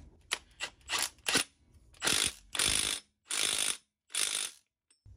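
Ratchet wrench with a 30 mm socket spinning a new Toyota nut onto a transfer case output shaft, a run of about seven quick ratcheting bursts, close and alone, with short pauses between the longer later strokes.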